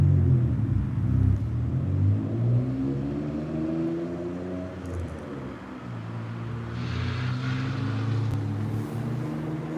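A loud car pulls out of a parking lot toward an intersection, its engine rumbling low and steady with a slight rise in revs, close by and alone without talk.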